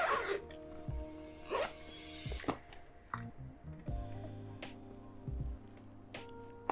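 Zipper on the carrying case of Soundcore Space Q45 headphones being pulled open in several quick rasping bursts, close and fairly loud, with small handling clicks and rustles between pulls.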